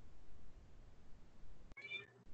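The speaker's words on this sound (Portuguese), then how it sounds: "a minha gata tá miando tanto" A pet cat meows once, close and clear, a short plaintive call breaking through the low background hum of a room.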